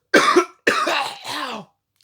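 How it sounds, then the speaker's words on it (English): Three harsh, violent coughs burst out close and loud in quick succession, the last one drawn out and rough, with no other sound around them. "Ow, that was a violent cough."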